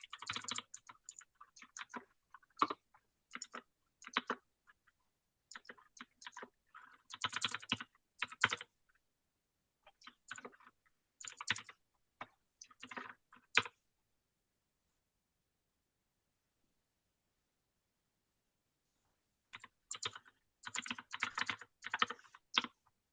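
Someone types on a computer keyboard in quick, quiet bursts of keystrokes, separated by pauses and a long stretch of silence near the end.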